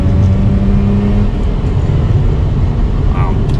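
A Mazda RX-8 sports car engine roars loud and close, a steady heavy drone with a brief dip in pitch partway through during a poorly rev-matched gear change.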